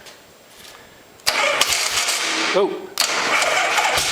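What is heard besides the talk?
1970 Harley-Davidson motorcycle engine starting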